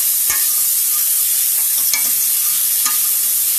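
Onion, tomatoes, garlic and ginger sizzle steadily in a pan over low heat, with a few sharp scraping stirs breaking through the constant frying hiss, close and fairly loud.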